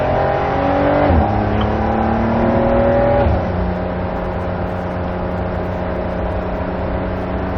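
A race car on the Barber Motorsports circuit, heard from inside as the engine drone climbs in pitch, falls with two shifts, then settles into a steady, loud hum on throttle, with no voices.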